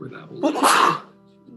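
A single sharp sneeze bursts out in a room during a tabletop role-playing session, loud and close, with people talking just before and after it.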